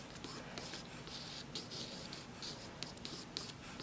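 A pencil sketches loose trees on paper ahead of a watercolor of the Eiffel Tower. Soft, close scratching strokes repeat in short, uneven bursts, quiet and steady with no talk.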